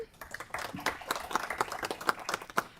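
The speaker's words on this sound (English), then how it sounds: "So please give him a round of applause as we welcome him to this commission." A small group at a commission meeting claps briefly to welcome a new assistant, faint scattered hand claps close together in a quiet room.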